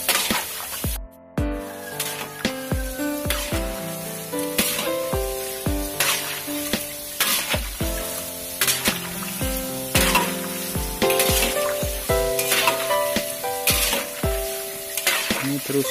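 Amplang fish crackers from Samarinda frying in hot oil while being stirred, a continuous sizzle broken by repeated scraping and clanking strokes of the utensil against the pan.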